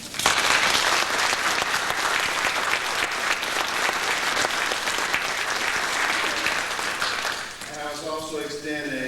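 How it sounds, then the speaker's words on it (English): Audience applause at a commissioning ceremony honouring new commissionees: a dense, sustained round of clapping from a large crowd that carries steadily for about eight seconds before a voice starts speaking as it fades. "I'd like you to join me one more time in a round of applause for our commissionees this morning."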